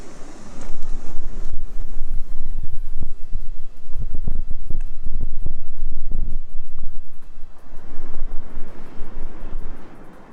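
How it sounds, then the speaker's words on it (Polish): Strong gusty autumn wind while fishing, roaring into the microphone, loud low-frequency buffeting that surges and eases across the whole stretch. "Mamy dzisiaj bardzo trudną pogodę. Wiatr na pewno nie sprzyja wędkowaniu"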